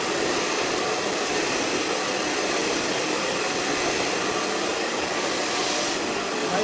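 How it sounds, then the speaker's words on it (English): A hair dryer blows steadily and loudly at close range while hair is wrap dried, a constant broadband rushing hiss with no pauses and no voices over it. "You're just wrap drying the hair, keeping the hair cuticle"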